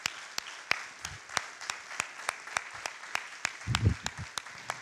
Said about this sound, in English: Let's give them all a big round of applause, please.